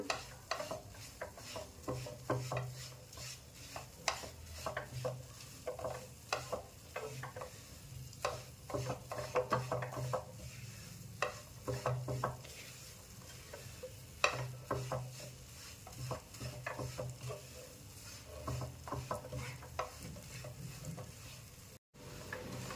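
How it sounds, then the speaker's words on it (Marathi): A sesame and jaggery mixture for tilgul laddoos is roasted on medium flame, giving a steady quiet sizzle with continuous rhythmic scraping and stirring against the pan, unhurried and close, with no voices. "एक दोन ते तीन मिनटं आपल्याला हे चांगलं मीडियम आचेवर परतून घ्यायचं आहे"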